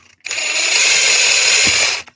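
A power driver whirs steadily on a long bolt during car repair, a loud continuous motor whine lasting about two seconds before cutting off abruptly, with no voices.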